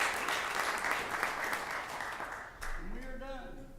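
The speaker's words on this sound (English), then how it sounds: "the mayor deserves a round of applause for all those proclamations" A dense patter of clapping hands from the crowd at a city council meeting, steady for a few seconds before fading as voices rise over it.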